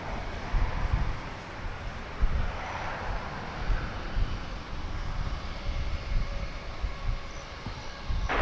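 A jet airliner powers up for takeoff at Dallas/Fort Worth airport, its steady engine roar rumbling loud and continuous for several seconds, swelling slightly as it goes.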